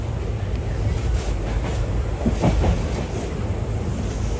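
The Madgaon Express rumbles along from inside a near-empty general coach, a steady loud roar with faint rhythmic clatter and wind buffeting throughout.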